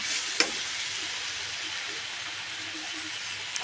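A steady, close sizzle of dondokolos leafy greens frying in plenty of hot oil, with a couple of brief clinks of a utensil against the pan.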